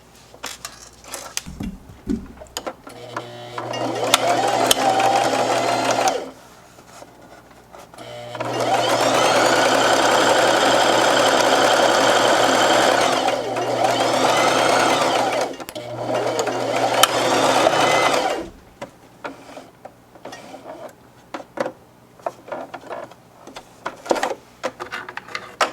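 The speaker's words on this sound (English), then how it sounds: "Now we're going to take it over to our sewing machine and sew down a casing of 3/8 of an inch." A sewing machine stitches down a 3/8-inch casing on a French seam, running in several sustained bursts of even mechanical whirring separated by short pauses with small handling noises.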